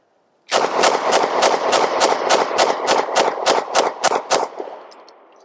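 Lone Wolf Arms TimberWolf 19 pistol emptying a magazine, about fourteen loud, sharp shots in a steady quick rhythm over four seconds, close up, echoing briefly after the last round with no talk.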